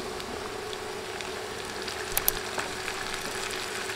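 Onions fry in a pan for a pumpkin bhaji, giving a steady, close sizzle that runs evenly throughout with a few brief clinks near the middle.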